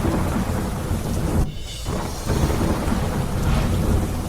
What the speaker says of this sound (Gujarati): કુકરાણામાં વરસ્યો વરસાદ